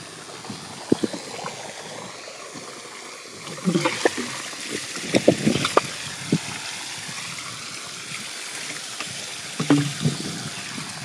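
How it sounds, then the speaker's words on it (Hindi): Water rushing and splashing through an irrigation channel beside a field of grown sorghum and maize, a steady close wash with scattered splashy bursts and occasional background voices. "और पानी भी फास्ट जा रहा है।"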